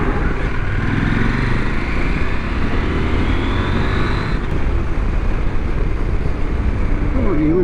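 A tractor engine drones steadily and loudly from start to finish, a continuous low mechanical rumble with a constant engine hum and no pauses.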